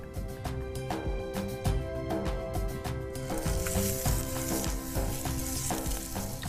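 Sliced onion fries in oil on a hot cast-iron tawa with a steady crackling sizzle and stirring scrapes; the frying grows louder and hissier midway, and there are no voices.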